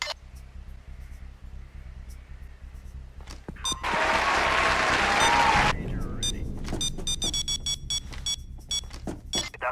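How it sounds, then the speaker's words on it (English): A loud electronic alarm blares in the video game Payday 2 during a heist on an oil-themed mansion, a sustained wailing burst followed by repeated beeping tones and clattering game sounds. "Damn it, the alarm! The whole house knows you're coming now!"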